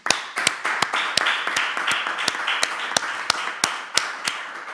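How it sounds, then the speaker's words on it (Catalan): Applause at the close of a talk, with a few distinct, evenly spaced hand claps ringing out sharply over a softer wash of clapping from the room. "sisplau, un últim aplaudiment."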